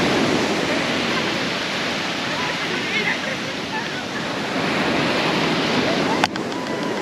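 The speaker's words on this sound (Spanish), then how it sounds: "Está intensa la marea," Strong sea tide and surf roar steadily and loudly at close range, a continuous broadband wash with wind buffeting the microphone and a brief bump near the end.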